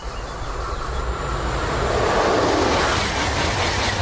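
A TGV high-speed train in motion: a loud, steady rushing roar with deep rumble that holds unbroken and swells slightly as it gathers pace.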